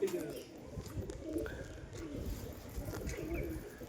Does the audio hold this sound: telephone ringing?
no